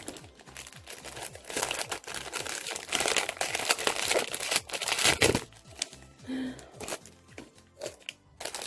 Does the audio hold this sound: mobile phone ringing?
no